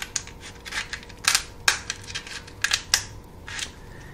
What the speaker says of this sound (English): to do this, we used a pair of kitchen scissors